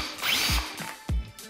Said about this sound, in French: On va commencer d'abord par visser la vis sur elle-même afin de permettre à la cheville de s'expanser légèrement dans le mur